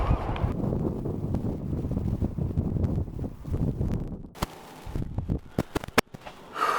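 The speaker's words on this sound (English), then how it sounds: "It's a little windy out there." Gusty coastal wind at Newport, Oregon buffets the microphone with a rough, rumbling roar, easing toward the end as a few sharp knocks and clicks come through.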